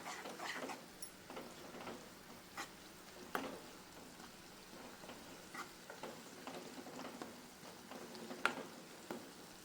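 Grated dry coconut sautés in oil in a pan, giving a faint, steady sizzle broken by soft scraping stirs and light ticks, quiet and close with no voices.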